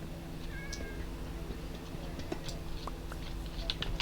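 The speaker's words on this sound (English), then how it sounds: "I may actually go tame the cat." A cat in Minecraft gives soft, brief meows and small chirps, faint and spaced out over a quiet background hum with occasional light clicks.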